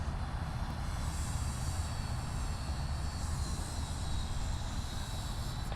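A Rex airliner lands on runway 34 left at Sydney Airport, its engines a steady, distant, fairly faint roar that holds evenly throughout.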